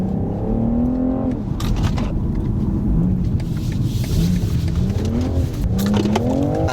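A car driven in sport mode gives a continuous engine drone that rises and falls as it accelerates and shifts, heard from inside the cabin with steady road rumble.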